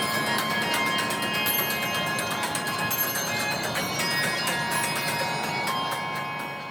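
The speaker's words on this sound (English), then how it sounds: "the fascinating atrium clock tower, a true centerpiece that marks the passage of time with hourly chimes" Bells from the atrium clock tower aboard the Fred Olsen cruise ship Bolette ring in a steady, dense series of bright metallic strikes that fill the space with lingering overtones.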